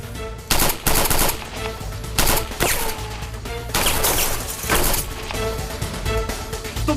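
Gunfire rattles almost nonstop in loud machine-gun bursts mixed with single sharp shots, dense and close, with no voices over it.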